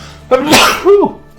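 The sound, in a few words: sneeze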